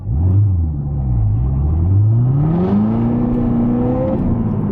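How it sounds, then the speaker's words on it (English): A Corvette C7 ZR1 with a 2.6 liter supercharged engine and 52,000 miles accelerating at quarter throttle, a loud close deep rumble rising steadily in pitch with a supercharger whine over it. "that was literally a quarter throttle"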